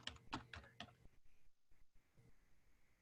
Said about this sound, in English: So let's do a little typing.